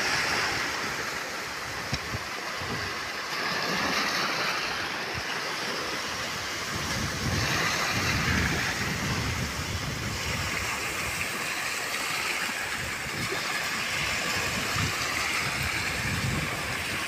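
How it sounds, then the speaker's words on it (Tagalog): Large sea waves churn and break under a strong northeast monsoon wind, a constant loud wash of surf mixed with gusty wind buffeting the microphone. "Malaki naman yung mga alon, no?"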